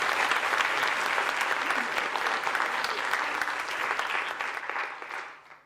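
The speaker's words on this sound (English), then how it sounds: "Can we give Lorna a massive round of applause?" An audience at a science festival talk in Edinburgh gives a sustained round of applause, dense clapping with a few voices mixed in, holding steady before fading out at the end.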